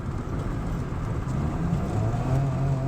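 A Saab 95 engine revs with a low steady drone, pitch rising slightly over the last second, heard close and continuous with no talk.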